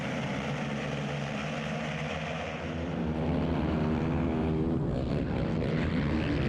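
ATV engines revving together at the gate of an ATV motocross national race at Spring Creek, a loud sustained buzzing drone that swells in pitch and intensity as the riders hold the throttle, heard from a rider's helmet camera.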